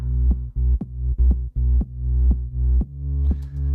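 Gritty FM synth run through distortion, a compressor and a filter, playing a pulsing bass-heavy pattern with sharp rhythmic hits, loud and alone, brightening briefly at the end.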